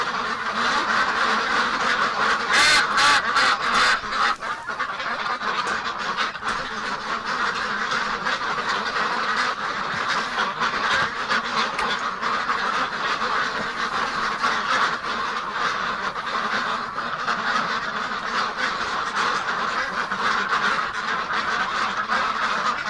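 Ducks quacking steadily on a winter evening, a dense, continuous chorus of close, loud quacks and honks that carries on without pause.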